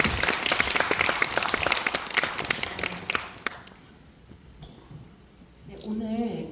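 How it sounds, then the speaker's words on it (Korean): Audience at a Korean contemporary dance showcase clapping after the performances, a loud, dense round of applause that stops after about three and a half seconds, followed by quieter room tone and a brief spoken voice near the end. "박수 한번."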